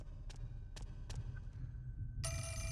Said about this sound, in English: the phone ring's about to begin